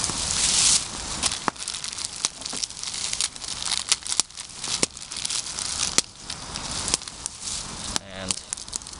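Plastic noodle packet crinkles and crackles in hand beside a campfire, irregular close crisp rustles and snaps with brief talk.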